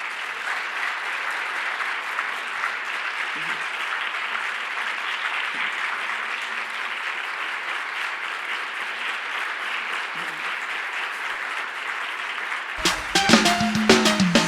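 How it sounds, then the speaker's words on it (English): A conference audience at a general session presidential address applauds in a dense, sustained wash of clapping that holds steady for most of the stretch, then gives way to a louder burst of other sound near the end. "Everybody clap your hands."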